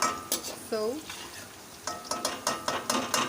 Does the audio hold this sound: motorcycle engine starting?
no